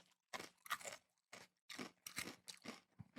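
Thin crisps crunched and chewed close to the mic in a run of sharp, irregular bursts over about three seconds, with short silent gaps between bites and no talking.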